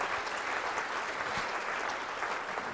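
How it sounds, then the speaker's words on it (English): A conference audience applauds in a brief, steady burst of clapping from a crowd indoors. "Let's give them a round of applause."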